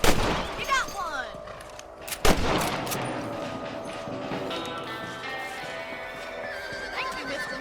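A sharp rifle gunshot cracks out in the Red Dead Redemption video game, mixed with a horse's whinny and clip-clopping hooves at the start, then fading into a ringing ambient tail.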